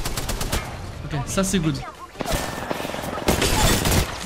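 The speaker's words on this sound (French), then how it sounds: "j'ai plein de teams qui tirent" Gunfire from several teams shooting at once in a video game: dense bursts and volleys crackling almost continuously, loudest near the start and end, with someone talking over them.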